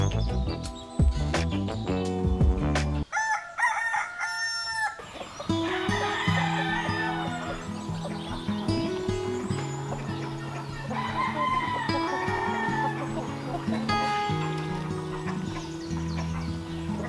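Chickens in a free-range farm's hanging coop cluck and crow loudly and continuously up close, with roosters calling and hens clucking over one another throughout.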